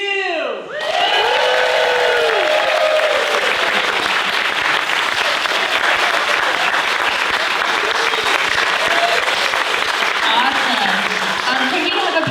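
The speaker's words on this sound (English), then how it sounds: "if you want to give us a cheer, let's hear it for Q" Loud, sustained applause and cheering, with whoops and shouts, for the winning team at an entrepreneurship pitch competition. A brief musical tone sounds at the very start, then the crowd noise stays dense and steady.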